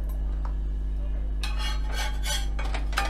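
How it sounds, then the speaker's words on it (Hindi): A paratha stuffed with tomato, onion and potato cooks on a griddle with ghee, giving faint scraping and spatula sounds followed by a few louder bursts of sizzling as it is flipped. "जिस साइड से सिक गया है उस साइड थोड़ी सी घी लगाकर फिर हम उसे पलट कर"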